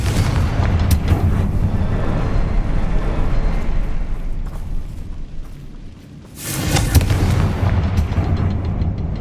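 Confringo fire spells burst in Hogwarts Legacy, loud booming explosions over a continuous rumbling battle din, with a heavy blast near the start and another powerful one later.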